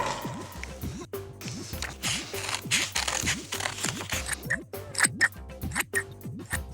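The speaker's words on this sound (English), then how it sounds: "cut each leaf out. But be careful, because scissors are sharp." Scissors snip out dried paper leaf prints at an arts-and-crafts table, giving a quick run of close, crisp cuts with rustling paper between them.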